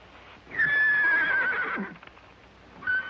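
A horse lets out a loud, drawn-out whinny that trails off, followed by a brief start of another neigh.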